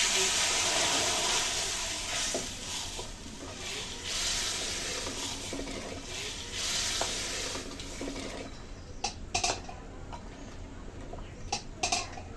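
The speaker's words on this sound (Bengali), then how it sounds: "ফোড়ন দিয়ে আবার আমি অনেকক্ষণ ধরে একটু জাল করে নেব" Spices for a mango sour dal tempering sizzle and crackle steadily in hot oil, with a dense frying hiss that eases near the end, where a few sharp taps of stirring stand out.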